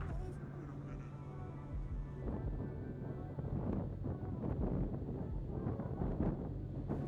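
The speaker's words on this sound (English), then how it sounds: "It's really windy, sorry guys." Strong outdoor wind buffeting the microphone near water, rumbling gusts that rise and swell in uneven bursts, with a boat passing somewhere beneath the noise.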